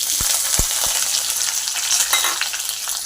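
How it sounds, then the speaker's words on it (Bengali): Onions frying in oil with bay leaf, a bright continuous sizzle close up, with a few sharp knocks of a spatula near the start and soft stirring scrapes. "এদিকে পেঁয়াজটা ভাজা হতে থাক"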